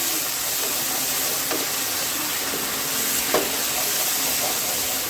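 Chicken in mint sauce sizzles in a pan while it is stirred, a steady soft frying hiss with a few faint scrapes and clicks of the spoon.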